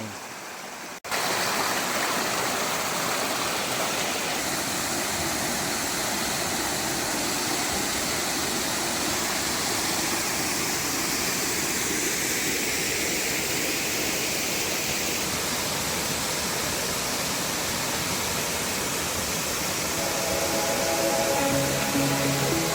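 A steady, loud roar of falling water pours on without a break, a dense wash of rushing sound close by.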